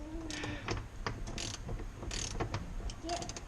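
Bolts get tightened on a Waveblaster build: quick ratcheting clicks and metallic turning in short bursts, close and moderately loud, with no talk.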